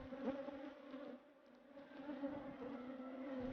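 Stingless bees native to the Americas buzzing in a steady, faint drone with a clear humming tone, several insects blending together at a close distance with no voices.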